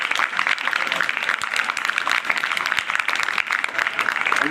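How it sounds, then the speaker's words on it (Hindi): A school audience of students bursts into loud, dense applause welcoming a doctor at a motivational lecture, a steady wall of clapping that holds evenly throughout with no speech over it. "एक बार जोरदार तालियों से डॉक्टर साहब का अभिनंदन"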